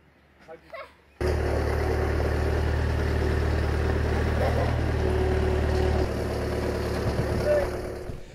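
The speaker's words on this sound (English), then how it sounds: "Driving a huge earth-moving machine like this just has to be the new cool." A large earth-moving digger's engine starts after a brief quiet moment with a few faint sounds, then holds a loud, steady, low rumble that eases slightly toward the end.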